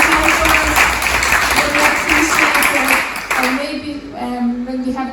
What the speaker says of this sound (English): Can we give them a round of applause for all the helpers?